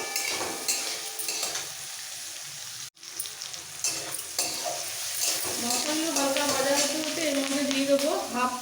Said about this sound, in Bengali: রসুনের কোয়া কিছু আদা মশলাগুলো হালকা ভেজে নেবো